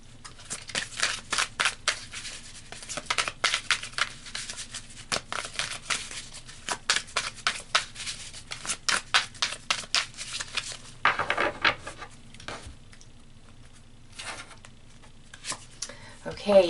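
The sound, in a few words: pulling and shuffling tarot cards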